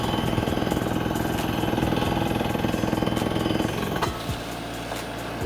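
A well drilling rig hammers into the ground, a loud steady percussive pounding with engine drone that runs continuously before easing off and changing pitch near the end.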